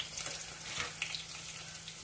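Dried red chillies fry in hot oil for a dal tempering, giving a low continuous sizzle with small scattered crackles and pops, quiet and close, with nobody talking.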